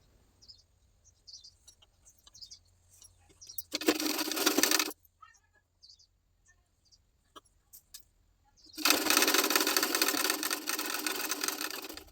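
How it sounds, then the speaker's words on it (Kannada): Two bursts of a sewing machine stitching a fold on a plain blouse, one short run of about a second and a longer steady run of over three seconds, separated by quiet handling noises. "ಫೋಲ್ಡ್ ಮಾಡಿಕೊಂಡು ಮೇಲೆ ಒಂದು ಸ್ಟಿಚ್ ಮಾಡ್ಕೊಳ್ತಾ ಇದ್ದೀನಿ"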